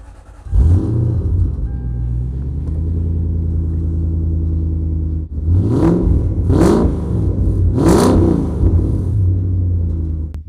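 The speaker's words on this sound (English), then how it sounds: "We're going to let them listen to the exhaust." A Toyota car with 600,000 kilometers idles with a steady low exhaust rumble, then is revved three times in quick succession, each rise loud and close before settling back to idle.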